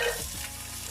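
Celery sautéing in vegetable oil over a medium flame, a brief, close, steady sizzle with no voices.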